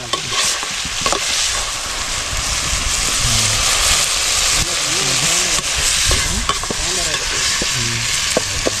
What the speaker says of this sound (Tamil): நல்லா வதங்கிடுது.